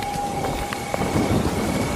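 Heavy rain and wind in a forest at night, a dense, steady wash of rainfall with a gusty rumble and a few sharper patters, close and loud with no pauses.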